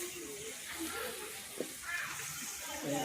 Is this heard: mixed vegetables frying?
yes